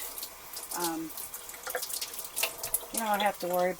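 Tap water runs steadily into a sink while pork chops are rinsed, with brief bits of talk over the flow.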